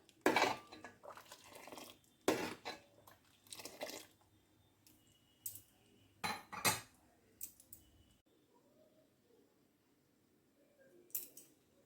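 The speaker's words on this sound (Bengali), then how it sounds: "দুধটা মাঝে মধ্যে কিন্তু এরকমভাবে নেড়ে দিতে হবে" A spoon stirs milk in a pot for rice payesh, giving intermittent scraping clinks and short clatters with quiet stretches between them, close by and with no one talking.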